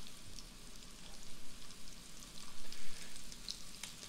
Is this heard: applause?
no